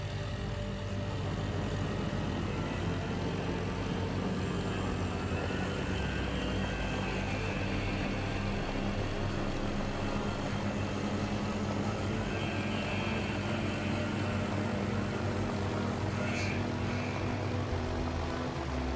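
A bomber launched from the carrier Langley flies in World of Warships, its propeller engine droning steadily and loudly throughout, unbroken and with no talking.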